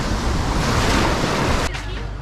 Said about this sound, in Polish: cały czas mnie zalewa fala. O, tak jak teraz na przykład.